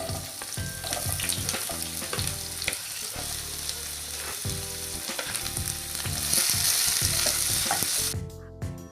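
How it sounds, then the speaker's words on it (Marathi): Onion frying in oil with cumin, cinnamon and cardamom, a dense steady sizzle close up with repeated scraping and tapping stirs, ending abruptly without any speech. "जिरे भाजले की कांदा घालते"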